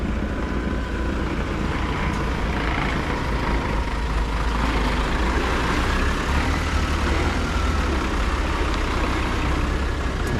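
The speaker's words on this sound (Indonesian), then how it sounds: "Ini masih ada truk buat nge-mix." Concrete mixer truck idling near a parking area by a construction site, giving a steady, loud, low engine rumble that stays constant throughout with no talk.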